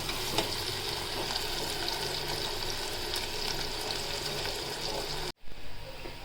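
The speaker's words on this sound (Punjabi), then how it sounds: "ਆਪਾਂ ਤੜਕਾ ਵੀ ਭੁੰਨ ਕੇ ਵਿੱਚ ਪਾ ਦਿੰਨੇ ਆ ਦਾਲ ਦੇ" A tempering of spices fries in hot oil over a gas flame before going into lentil dal, giving a steady, loud, close sizzle that cuts off abruptly near the end.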